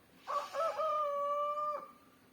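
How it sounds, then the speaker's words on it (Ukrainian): A rooster crows once, a full drawn-out call rising then holding steady before trailing off, fairly close and clear with no voices. "І півень подає голос"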